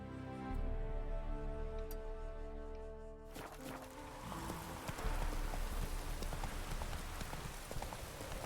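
The horse Roach clip-clops along in The Witcher 3 video game, a steady run of hoofbeats heard close under a soft bed of rain and game ambience.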